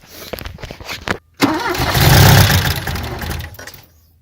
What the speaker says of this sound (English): turn over the car